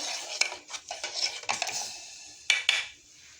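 Spoon scraping and clinking in a bowl while sugar and chaat masala are mixed into boiled red bean (lobia) chaat, a run of close metallic taps and stirring scrapes with no talk.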